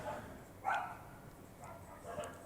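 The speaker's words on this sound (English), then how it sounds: "So I don't know if you can hear the dogs barking." Dogs bark in the distance, a few muffled yaps and woofs rising over steady background noise.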